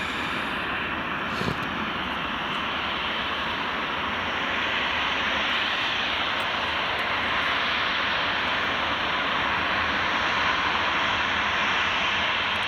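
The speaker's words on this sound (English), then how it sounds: "So this Jet2 is just taxiing along, is heading to Malta." A Jet2 airliner taxiing at Glasgow Airport, a steady broad engine roar with a high whine held at a constant distance, continuous and unbroken for the whole stretch with no talking.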